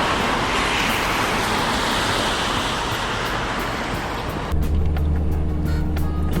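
Car full of tourists passing on a mountain road, a broad rushing roar that swells and fades through the first few seconds before a quieter, steadier hum takes over.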